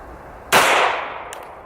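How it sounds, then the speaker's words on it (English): One sharp, loud report from a 9mm Slovenian pistol firing a full metal jacket round at concrete, a sudden crack followed by a short ringing decay and a faint click just after. "9mm out of my Slovenian pistol. This is a full metal jacket."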